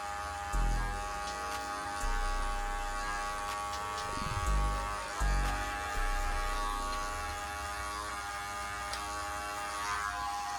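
Cordless barber hair clippers with the lever fully open taper a high taper fade, giving a steady close electric buzz that runs alone with brief dips and changes in pitch as the blade moves through the hair.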